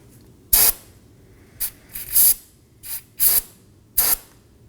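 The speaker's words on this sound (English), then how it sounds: "I'm going to spray some brake cleaner first." Brake cleaner sprayed from an aerosol can onto a mating surface while replacing rear brake hoses on a Nissan Maxima: five or six short, loud hissing bursts of uneven length, close up, with no talking.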